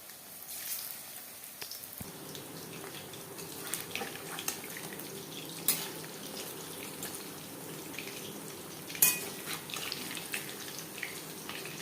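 Crispy chicken pakora pieces fry with a soft, steady, watery hiss that stays faint and continuous throughout, with a few brief louder pops along the way.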